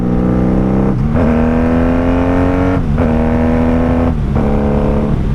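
Motorcycle engine with Jardine pipes, heard from the rider's seat on a 1995 bike, dropping from fifth to fourth to third without the clutch: a loud steady drone broken by three quick dips in pitch as each gear change lands.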